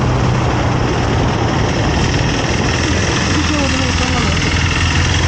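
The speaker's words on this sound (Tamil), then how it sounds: "இதோட மேடெல்லாம் ஏறிச்சு வண்டி." A vehicle engine labours with a steady, heavy drone while climbing an uphill slope on the road to Kolukkumalai near Munnar, with people talking over it throughout.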